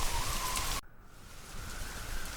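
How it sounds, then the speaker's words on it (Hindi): Heavy storm rain pours as a dense, steady hiss, loud at first, then dropping abruptly to a softer wash that swells again toward the end. "उसके साथ मूसलाधार बारिश भी शुरू हो गई।"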